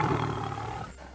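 A lion roars, a deep, rough and loud bellow that holds for about a second before fading out, heard close with no talking over it.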